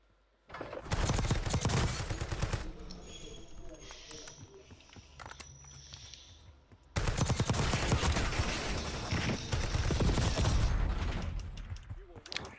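Sniper and other gunfire in a Call of Duty Warzone match, loud bursts of rapid shots that come in two long stretches with a quieter mechanical lull between them, with no talk heard.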